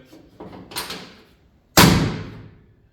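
A door on a 4x4 vehicle bangs open with a few soft rattles, then a loud close thump that rings out and fades, with no voices.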